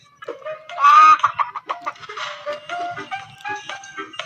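A chicken clucks close by in a quick, uneven series of sharp calls, with a brief higher squawk near the start.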